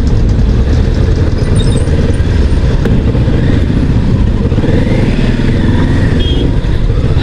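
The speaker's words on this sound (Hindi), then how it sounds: "फटाक से बाइक निकालनी पड़ेगी यहाँ से" A Kawasaki motorbike rides off across a railway crossing, its engine droning loud and close with steady revving and road rumble throughout, carrying on without a break.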